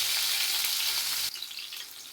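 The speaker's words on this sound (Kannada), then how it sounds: "ಮೆಣಸಿನ್ಕಾಯಿ ಚೆನ್ನಾಗಿ ಎಣ್ಣೆ ಫ್ರೈ ಆಗ್ತೈತೆ." Green chillies frying in oil, a bright, close sizzling hiss that drops suddenly partway through and continues a little quieter, with no voices.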